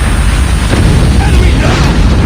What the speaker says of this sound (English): Repeat, friendly nuke has been launched.